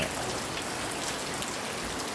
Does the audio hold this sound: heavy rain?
yes